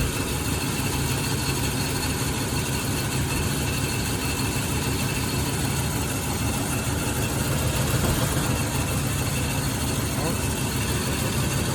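A 1984 Oldsmobile Delta 88 engine idles down to a steady, even rumble that continues without a break, close and moderately loud, with a person talking over it.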